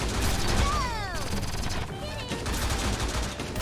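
Gunfire in the 3v3 mobile shooter T3 Arena: continuous rapid shots with whooshing, sweeping effects layered over dense game noise, with a voice talking along.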